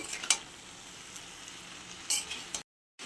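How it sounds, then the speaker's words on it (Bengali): Egg being stirred and mixed into chowmein in a frying pan, a gentle sizzle broken by a few bright scraping clinks of the spatula before the sound cuts off abruptly near the end. "এবার ডিমটা দিয়ে দেবো, দিয়ে দিচ্ছি। ডিমটা দিয়ে মিশিয়ে নেব।"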